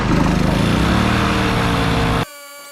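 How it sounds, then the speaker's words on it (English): A Predator 4550 watt inverter generator runs an air compressor with a loud, steady motor drone and a throbbing rhythm, then stops sharply near the end, leaving a faint residual hum. "the generator runs my air compressor"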